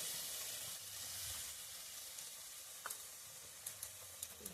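Ground coriander leaf paste goes into a boiling sweet, sour and spicy pickle mixture, giving a steady, soft frying sizzle and hiss with a few faint clicks of stirring toward the end.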